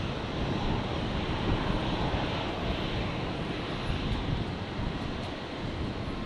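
A Jetstar Airbus A321neo taxis at Brisbane International Airport, giving a dense, steady engine roar with a faint high whine, fairly close and unbroken, mixed with some wind noise.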